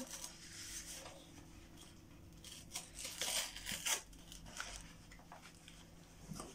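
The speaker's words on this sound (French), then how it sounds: "On va la déballer comme ceci." A tights subscription box is unwrapped up close and quietly, with crinkling, rustling and tearing of packaging in short bursts that grow busier toward the middle.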